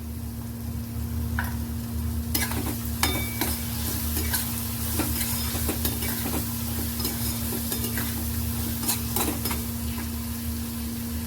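Chopped onion sizzles steadily in a pan with a little turmeric added, stirred with a spatula that gives sharp scraping clicks against the metal over a constant hiss. A low steady hum runs underneath, and no one speaks.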